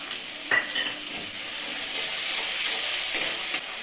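Whole garam masala, ginger, dried chilli and cumin paste fry in a pan as a tomato goes in, a bright steady sizzle punctuated by a couple of metallic spoon scrapes, close and without speech.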